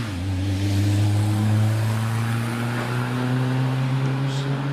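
A supercharged 1172cc Buckler Mark 5 driven by Keith Thomas climbs the Prescott hill, its engine droning steadily and fairly loud as it accelerates up through the S bends, with no voices over it.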